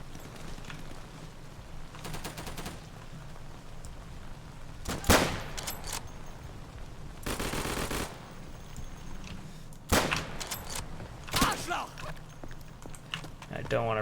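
Gunfire in a TAW realism-mode multiplayer video game, several distant bursts of shots around 2, 5, 7.5 and 11 seconds, some rapid and rattling, mixed with lower background noise.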